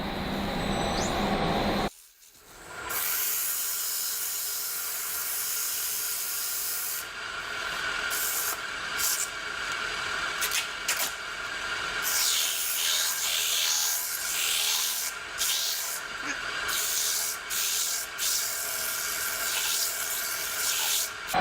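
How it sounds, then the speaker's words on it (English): Coarse 60 grit sandpaper rubs steadily over wood by hand, a dense, continuous scratchy hiss that breaks off briefly near the start and then carries on with small uneven variations in stroke. "I'm going to do some sanding. I'll start out with a very coarse 60 grit sandpaper"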